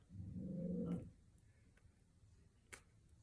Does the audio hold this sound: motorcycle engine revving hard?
no